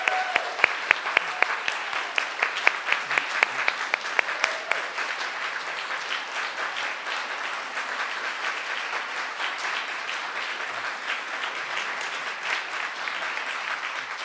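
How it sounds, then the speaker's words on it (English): Sustained audience applause at a church service, many hands clapping at once with a few sharper claps standing out early, continuing steadily at an even level throughout without fading out. "one more round of applause for the Austins"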